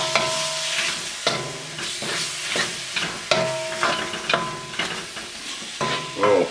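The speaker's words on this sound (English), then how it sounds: "I'm just going to stir this all up." A spoon stirs gochujang sauce mixed with rice syrup in a pan for buldak chicken, giving a steady run of close, rhythmic scraping strokes over a light sizzle.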